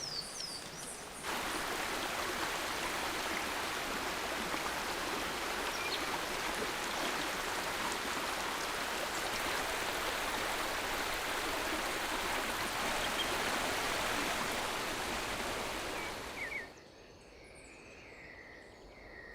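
Forest streams and rivers in Colombia rush and babble in a steady, full wash of flowing water. The sound runs unbroken for most of its length, then falls away and leaves faint birdsong at the end.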